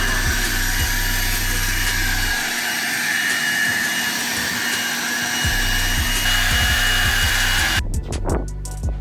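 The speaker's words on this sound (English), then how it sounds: "the next move is pull out that leaf blower" A loud, steady leaf blower drying a Volkswagen Golf R Mk8 roars continuously, a high whining airflow that cuts off near the end, leaving a few brief clatters.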